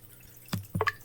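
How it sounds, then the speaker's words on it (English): Water is added to a home fish tank, heard as a few quick, close drips and small splashes, faint and brief with no voices. "I'll get some water, put it in"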